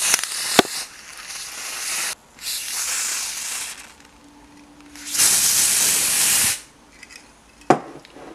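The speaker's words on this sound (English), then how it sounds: "I forgot to do the hairspray." Hairspray from a can gives two long, close hissing bursts separated by a pause, with a couple of sharp clicks between them and no speech.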